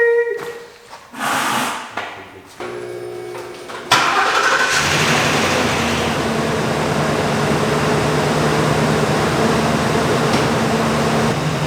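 A van engine cranks and catches after a few brief starts, then settles into a steady, close idle hum with a faint mechanical whine as it is readied to back out.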